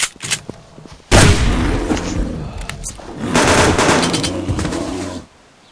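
SVT-40 rifle fire in the survival video game Subsistence: a few sharp shots early on, then two long loud bursts of booming gunfire with rumbling tails, close and dominant.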